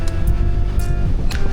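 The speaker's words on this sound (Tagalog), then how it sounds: "Lakas lang ng hangin." Strong wind buffeting outdoors, a loud, rough low-frequency rumble with gusty bursts of hiss, close and continuous over a steady engine-like hum.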